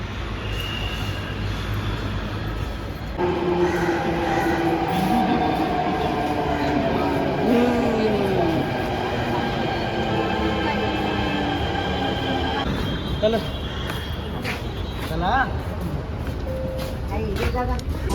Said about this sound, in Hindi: तो अभी मेट्रो आने वाली हमारी